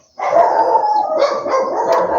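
Dogs bark and howl in a continuous, overlapping chorus, loud and close, lasting about two seconds.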